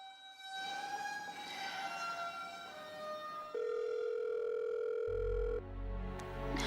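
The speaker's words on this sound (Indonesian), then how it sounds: "Kamu kenapa sih nggak ngangkat telepon aku?" A telephone call tone sounds for a call that goes unanswered: a steady electronic ringing tone that holds, then shifts pitch partway through, before a low rumbling tone enters near the end, with no talking.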